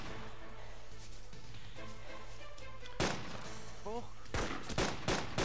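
Sharp gunshots ring out in DayZ in the streets of Cherno, a few loud cracks near the end of the clip after quieter ambient game noise.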